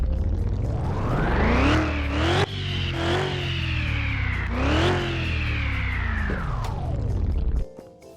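A supercharged V8 in Car Mechanic Simulator 2021 revving hard several times, each throttle blip rising in pitch and falling back, loud and close with no talking, ending in a quick cutoff.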